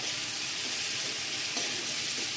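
Sliced onions sizzle steadily in a hot pan after a pinch of coarse salt goes in, with soft scraping stirs surfacing through a continuous close hiss; no talking.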